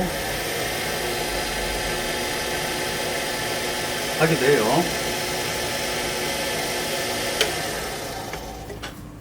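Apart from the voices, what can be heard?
wood lathe motor running at low speed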